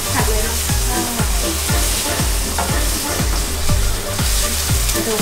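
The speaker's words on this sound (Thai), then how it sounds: "ผัดเบคอนก่อนนะคะ" Bacon stir-frying in a pan, with a loud steady sizzle and repeated rhythmic scraping strokes of a spatula roughly every half second, close up and without talking.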